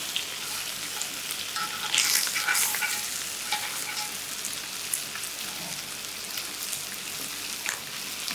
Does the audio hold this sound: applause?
no